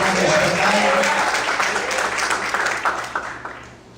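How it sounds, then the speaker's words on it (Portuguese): A church congregation applauding during a worship service, dense hand clapping from many people that is loud at first and then fades out over a few seconds, with voices mixed in. "Vamos aplaudir ao Senhor Jesus."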